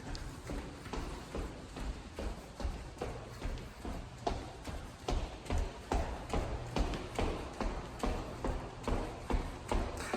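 Keys jangle in a steady rhythm, clinking with each footstep, fairly close and continuous throughout.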